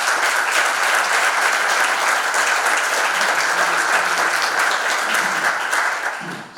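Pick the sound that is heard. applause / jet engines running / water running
applause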